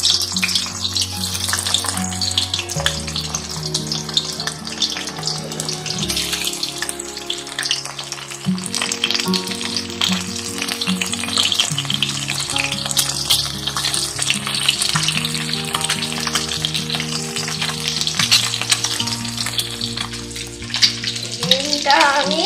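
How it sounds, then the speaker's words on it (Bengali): Eggs fry one by one in hot oil in a kadai for a Bengali dim posto, giving a steady, loud, crackling sizzle throughout with occasional clinks of a utensil. "এবার আমি একটা একটা করে ডিমগুলোকে ভেজে নেব।"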